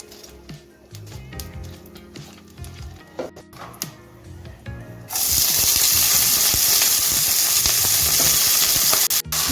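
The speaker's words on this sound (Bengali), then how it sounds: "দুটো শুকনো লঙ্কা ফোড়ন দিয়ে দিচ্ছি শুকনো লঙ্কাটা একটু ভেজে নিচ্ছি" Dried red chillies are crackling in hot white oil. After a quieter stretch of clinks and handling, a loud, dense sizzle bursts in and holds steady to the end, with no talking.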